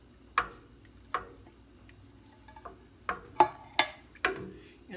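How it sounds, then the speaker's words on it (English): A spoon clinks and knocks against a pot while tomatoes and sauce are stirred in, about seven sharp taps at irregular intervals over quiet background. "Stir that in."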